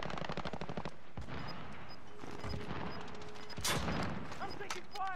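Gunfire in the video game Call of Duty: Modern Warfare on PS4, rapid bursts of automatic shots and sharp cracks mixed with game radio chatter and mechanical noise, fairly faint overall.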